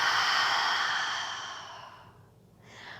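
A deep, breathy exhale through an open mouth during vinyasa yoga breathing, loud and close, fading over about two seconds before a softer breath begins.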